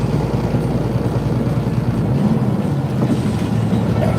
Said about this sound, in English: If you hear that change in the RPM like that, where it revs up for a second, that's me downshifting.